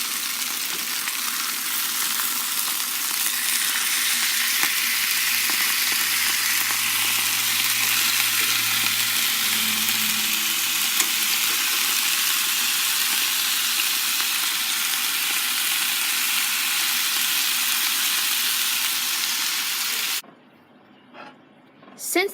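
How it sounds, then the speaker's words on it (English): Chicken fries in a pan with a steady, loud sizzle that holds evenly, then cuts off abruptly near the end, leaving quiet with faint clatter. "make sure you put a lid over the chicken while it's cooking."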